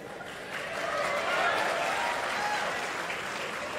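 An outdoor crowd at a large public soil-saving event gives a steady, moderately loud burst of clapping that swells slightly in the middle, with faint chuckles mixed in.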